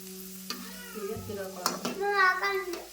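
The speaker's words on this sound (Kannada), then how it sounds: "ಈ ರೀತಿ ಫ್ರೈ ಮಾಡ್ಕೊಬೇಕ್ರಿ ಕರಿಗಡಬ" Karigadubu, fried dumplings, frying in hot oil, with a soft sizzle and occasional stirring scrapes up close while someone talks over it.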